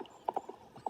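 Hooves of a ridden horse clip-clopping at close range, a few distinct irregular hoof strikes at a walk, fairly faint and alone.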